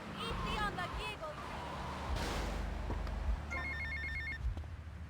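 A payphone rings in Little Havana in GTA Vice City, its electronic trill pulsing in short repeated bursts over a low engine rumble, with voices talking at the start.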